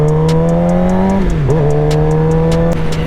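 A Suzuki GSX-R 750 motorcycle engine holds a loud, steady high rev close by, dips briefly, then climbs back to a sustained whine with a strong, buzzy harmonic tone.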